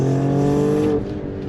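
Engine of a 2022 Alfa Romeo Stelvio Quadrifoglio SUV pulling hard in second gear on throttle, a loud steady harmonic roar from inside the cabin that cuts back sharply about a second in.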